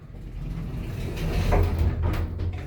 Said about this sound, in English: Those doors close very smoothly.